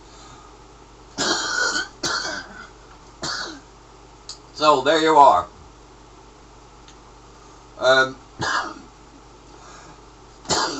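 A few short, harsh coughs and throat-clearing bursts close by, separated by pauses, with a brief bit of speech in between.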